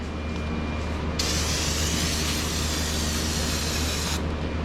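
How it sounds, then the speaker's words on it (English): A steady hiss of aerosol brake cleaner bursts on for about three seconds, close and even, sprayed on the drain plug and oil filter housing of a 2020 Toyota Highlander, over a low mechanical hum. "Spraying down the drain plug and oil filter housing area"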